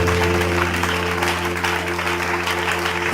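A church congregation applauds loudly and continuously, a dense wash of clapping that fills the hall for several seconds, with a sustained organ-like tone droning underneath.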